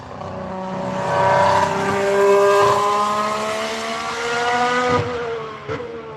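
A high-revving Honda-powered Red Bull Formula 1 car screams past during testing, its pitch stepping down through quick downshifts, loud and close with a sharp crackle near the end.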